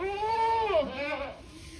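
A goat on a goat farm lets out one close, wavering bleat that rises and then falls, with a softer trailing cry after it.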